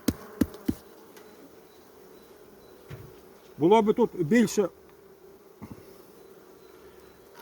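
A low, steady insect drone hums throughout, honeybees buzzing near a hive in winter, with a few sharp knocks early on and a brief spoken phrase in the middle.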